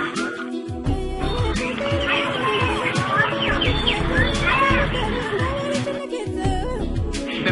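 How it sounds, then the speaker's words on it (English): Many kinds of birds chirping and calling at a zoo, a busy overlapping chorus of tweets with children's voices and crowd chatter mixed throughout. "all these birds that we are watching now need enough shadow, and we can see many kinds of birds."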